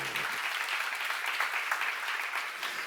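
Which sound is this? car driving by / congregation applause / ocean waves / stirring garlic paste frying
congregation applause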